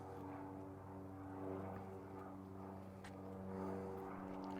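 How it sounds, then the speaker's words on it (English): A propeller airplane circles overhead near an airport, its steady droning hum faint and distant, rising and falling slightly as it passes. "We've now got the plane circling to see this vehicle."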